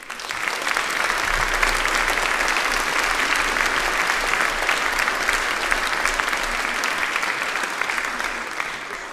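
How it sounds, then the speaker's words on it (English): A chapel audience applauds a choir with steady, sustained clapping lasting several seconds, full and even throughout, with no talk over it. "and perhaps a round of applause to everybody in the choir."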